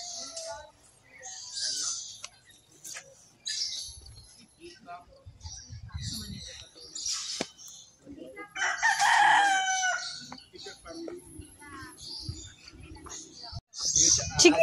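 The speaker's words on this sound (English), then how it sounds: "Chicken, chicken. Chicken." At a safari park in Cebu, a rooster crows and chickens cluck at intervals amid the chatter of nearby visitors, with the crowing rising clearly above the talk.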